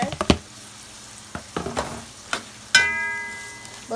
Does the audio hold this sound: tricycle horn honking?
no